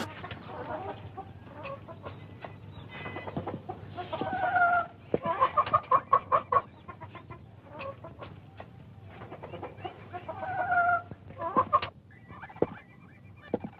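A chicken clucks and squawks in repeated bursts of varying loudness over a low steady hum, with no talking.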